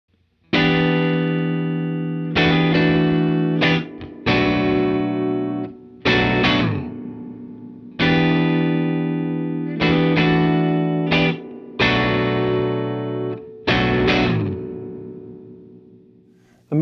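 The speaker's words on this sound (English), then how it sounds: "Inside is a real spring reverb tank, controllable by one single knob, the reverb mix, and it sounds like this." An electric guitar played through a Recovery Effects Moonstruck pedal with a real spring reverb tank, loud strummed chords in repeated phrases, each ringing out with a wet, splashy spring tail, no talking.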